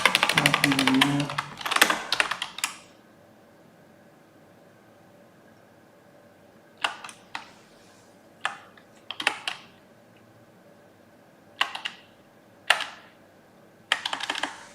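Typing on a computer keyboard during a coding session: a dense, close run of clattering keystrokes at the start, then short scattered clusters of clicks separated by quiet gaps, with no talking.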